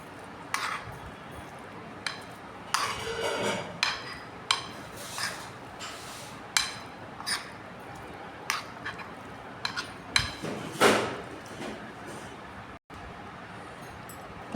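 Mango kasundi is stirred with heated oil in a bowl, a spoon clinking and scraping against the sides in irregular taps and strokes, close and moderately loud.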